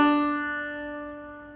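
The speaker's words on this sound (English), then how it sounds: "The first type of note is a quarter note," A single open-string quarter note plucked on a banjo rings out clearly and alone, its bright twang decaying slowly over about a second and a half.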